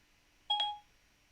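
A phone gives a short electronic double beep, a bright tonal chirp lasting about half a second over quiet room hiss, close and moderately loud with no talk.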